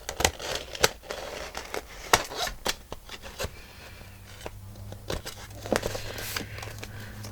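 Paper is trimmed for a pocket file folder journal, with crisp snips and rustling handling noises in irregular bursts, close and fairly quiet, with no talking.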